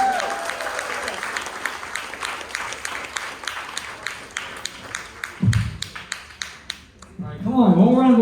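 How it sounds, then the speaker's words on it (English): Audience applause at a university stand-up comedy show: dense, steady clapping from a crowd for several seconds, tapering off before a brief voice and murmur rise at the end. "come on, one round of applause"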